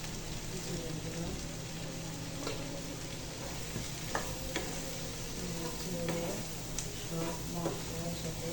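Malabar spinach fruits stir-fried with turmeric, coriander and cumin make a soft continuous sizzle, broken by irregular spatula clicks and scrapes against the pan, fairly faint overall.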